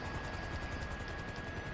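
Helicopter in a video game shooter, with a continuous rotor thrum and a steady whine, moderately loud and unbroken, with no talk over it.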